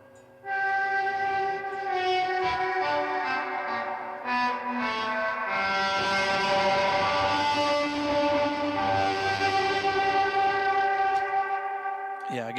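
An instrument played through a distortion effect, its sustained chords starting abruptly after a short quiet moment, then ringing loud and dense with echo and swelling throughout, with no talk over it.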